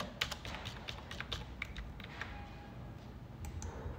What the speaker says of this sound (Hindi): तो हम अगेन यहाँ पे टाइप कर रहे हैं